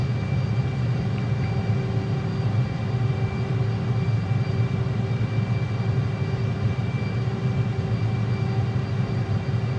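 Steady, loud jet engine drone of an A-10C II Thunderbolt in a flight simulator over Athens, Greece, with flaps lowered, a constant low roar and faint tonal whine holding unchanged throughout without talk.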